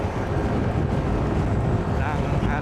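Strong wind roaring steadily over a microphone while riding a motorcycle fitted with a top box, a dense continuous rush with no breaks.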